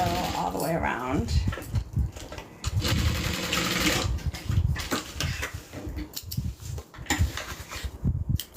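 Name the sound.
sewing machine sewing a backpack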